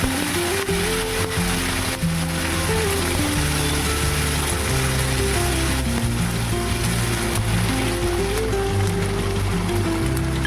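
Whole spices sizzle in hot oil as tempering for a spicy black chickpea curry, giving a constant, dense crackling hiss. Background music with sustained tones plays underneath.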